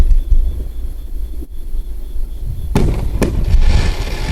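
Fireworks boom outdoors, heavy low rumbles rolling continuously with a few sharper cracking bursts near the end, no talking over them.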